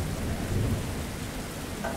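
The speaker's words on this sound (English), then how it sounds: "Hearing those rumbles of thunder" Steady rain hisses with a deep, muffled thunder rumble beneath it, fairly quiet and continuous throughout.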